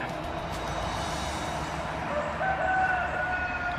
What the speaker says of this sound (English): if you heard that growl from the roosters, that's a look up, something's happening